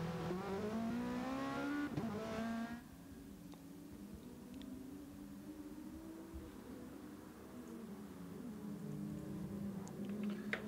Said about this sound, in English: the drivers are going out on the track now